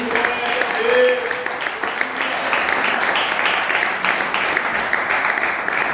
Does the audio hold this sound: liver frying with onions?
no